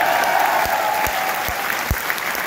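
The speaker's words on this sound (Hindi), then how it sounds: "तालियां बजाएंगे।" A crowd at a motivational speech event claps loudly and continuously in a hall. A few low thumps punctuate the steady wash of hands.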